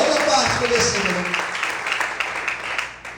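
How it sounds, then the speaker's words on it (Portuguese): A congregation breaks into applause and cheering that gradually fades, with voices calling out over the clapping. "Quantos podem aplaudir o Senhor e glorificar a Deus?"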